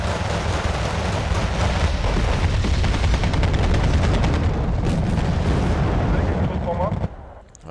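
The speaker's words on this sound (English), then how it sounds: "Bombs." Bombs drop in the Cold War strategy video game Wargame: Red Dragon, a dense, loud, continuous roar of blasts and rumbling gunfire that holds for about seven seconds before cutting off abruptly.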